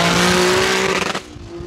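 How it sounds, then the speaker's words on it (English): A GT-R engine swapped into a Mustang screams at high revs against the rev limiter, a loud harsh roar with rapid stuttering cuts before dropping off near the end. "when you're bouncing off the rev limiter, it's crazy"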